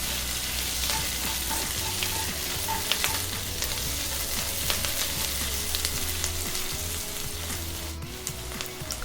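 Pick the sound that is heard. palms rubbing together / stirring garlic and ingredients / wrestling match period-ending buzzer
stirring garlic and ingredients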